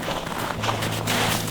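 Footsteps crunch and shuffle outdoors on a freezing winter night near a farm during a campfire camping trip. The steps sound close, continuous and slightly muffled.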